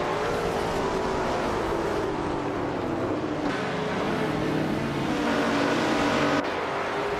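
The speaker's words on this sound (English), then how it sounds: "Scott Dixon has shot off to the lead" Vintage race cars, including a Lola T70, accelerate off the start of a race, a dense, loud blend of engines roaring and rising in pitch together, continuous throughout with no talk.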